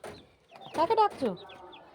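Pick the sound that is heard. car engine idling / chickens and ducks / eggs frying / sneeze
chickens and ducks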